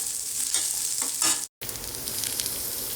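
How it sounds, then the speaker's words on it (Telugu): Okra pieces frying in a pan, a steady close hiss of sizzling oil with a few stirring scrapes and a brief cut to silence midway; no talking. "2 బెండకాయలు వేసుకుందాము. ఇవి కూడా 2 నిమిషాలు వేగిన తర్వాత మిగిలిన పని చేద్దాం."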